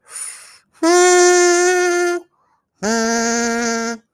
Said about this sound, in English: You can also change the pitch of the kazoo by the shortness of your breath